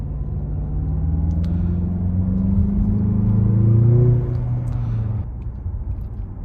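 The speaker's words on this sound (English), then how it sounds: "If you just like start accelerating a little bit, it goes right into boost, and you can hear it." A 2023 Mazda CX-50 turbo engine pulling into boost under light acceleration, a smooth rising hum and turbo whir that swells, then eases off, heard from inside the cabin with no talking.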